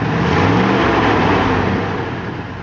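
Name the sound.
1970 Chevrolet K20 engine revving and backfiring, stock flat-lobe cam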